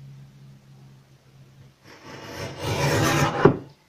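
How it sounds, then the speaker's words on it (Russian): A KW-triO 13921 paper trimmer slices off a thin paper strip, giving a short, rising rasping slide that builds over about a second and a half and ends in a small click, following a quiet, humming lead-in. "Попробуем отрезать тоненькую полосочку."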